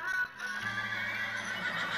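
A Minecraft horse whinnies in a bright, high, wavering cry that carries across the whole moment, close and fairly loud, with a faint low hum underneath and no one talking.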